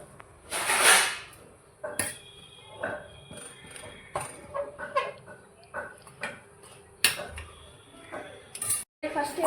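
A metal spoon scrapes and clinks against a cooking pot while a dish with ginger is stirred, with irregular knocks and clatters continuing throughout, close and moderately loud.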